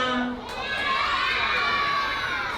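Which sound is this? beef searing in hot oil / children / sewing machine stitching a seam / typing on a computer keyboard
children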